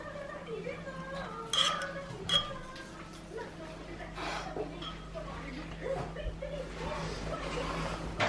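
A spoon stirs golden milk in a kitchen pot, giving quiet scraping swirls and scattered metallic clinks and taps against the pot. A low steady hum runs underneath.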